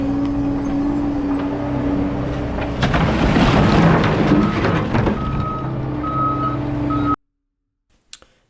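A bulldozer pushing into a burn pile near a hedgerow, its diesel engine droning loudly with a repeating reverse-alarm beep and a swell of rumbling debris noise, then cutting off abruptly.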